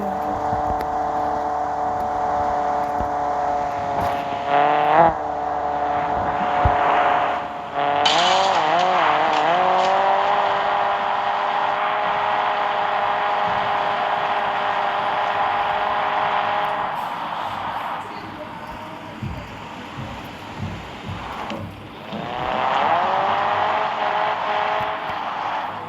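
A car driven on a road in the Car Parking Multiplayer video game holds a steady engine drone, rising and dropping through gear changes and revs, with brief tire squeals and skids.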